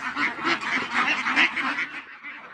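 A flock of ducks on a poultry farm quacks continuously, overlapping nasal calls close by with no talking.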